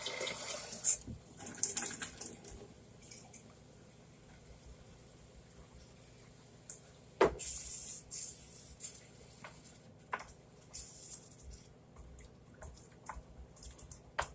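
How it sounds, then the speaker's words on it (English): Faint running tap water with splashes and occasional drips and knocks, a jar being rinsed at a sink nearby. "Alright, I'm going to rinse this out with water."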